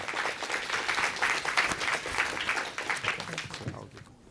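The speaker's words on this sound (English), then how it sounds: "Could you please join me in a round of applause for architect SEAH Chee Huang." Applause from a crowd at an architecture guest lecture, dense clapping that holds steady for several seconds and then fades away.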